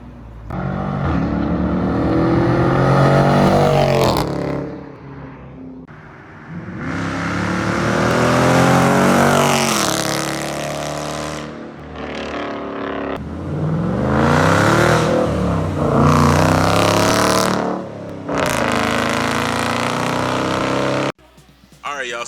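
A 2019 Dodge Challenger R/T with a muffler delete revs hard and roars past, loud throaty exhaust swelling and fading across several bursts, with people talking over it.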